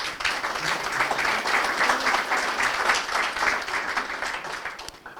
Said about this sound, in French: Donc je crois qu'on peut peut-être applaudir Stéphane pour l'occasion.